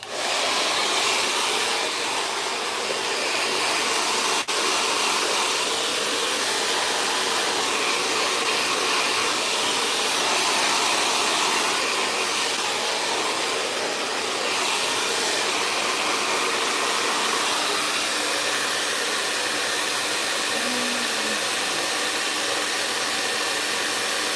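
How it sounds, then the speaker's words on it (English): A hair dryer blows out long salt-and-pepper hair during a silk press, a loud steady whooshing roar running continuously and close throughout. "I'm going to go ahead and blow her out"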